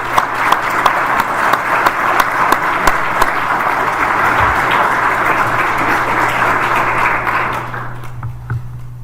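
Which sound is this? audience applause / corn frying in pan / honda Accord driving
audience applause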